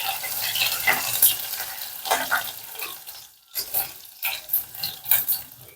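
Chopped ginger and garlic sauté in a pan, a close crackling sizzle broken by repeated stirring scrapes and a short lull, with the bursts growing choppier toward the end.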